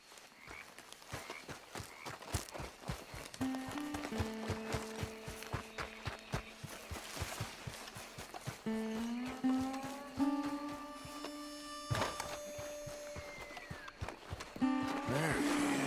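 A horse in the video game Red Dead Redemption 2, with rhythmic hoof clops and steps under tonal music and sound effects, moderately loud and fairly close.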